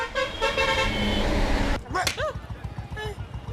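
A vehicle horn gives a couple of short toots amid busy traffic noise, with a voice talking briefly at the start.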